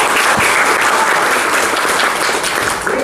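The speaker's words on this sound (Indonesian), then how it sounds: "Tepuk tangan bagi kita." Audience applause at a morning business seminar, steady dense clapping from a crowd throughout, loud and close with no gaps.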